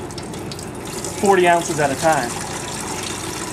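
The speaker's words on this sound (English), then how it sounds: "The next ingredient we're gonna add is the ice cold water." Ice cold water running from a tap into a container for pizza dough, a steady broadband pour that continues throughout while a person speaks briefly over it in the middle.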